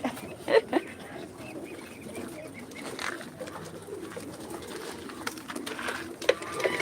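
Pigeons coo softly in a low, breathy murmur, faint and somewhat distant against a noisy background, with a few brief louder chirps and flutters scattered through.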